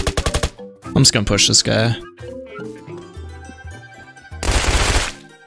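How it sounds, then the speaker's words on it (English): Rapid bursts of gunfire in the Roblox video game Apocalypse Rising 2 crack out at the start and again near the end, loud and close, with a player talking in between. "I think there's another person shooting, too."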